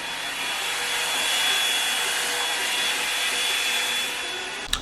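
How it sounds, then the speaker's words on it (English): A hair dryer blows continuously at home during quarantine, a steady broadband whoosh held at even loudness throughout, close by, ending with a brief click near the end. "Can you hear that? That's the hair dryer."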